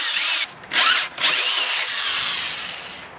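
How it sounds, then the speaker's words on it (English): A handheld drill with a hole saw whines loudly through wood, briefly easing off twice before grinding on steadily, boring a hole for 2-inch PVC pipe during a sump pump installation. "we're just using a handheld drill"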